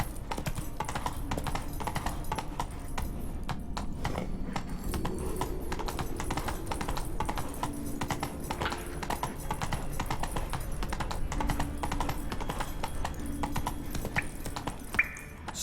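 Horse hooves clip-clopping steadily during riding in The Witcher 3, a continuous rhythmic trot under game ambience and music, with no voices.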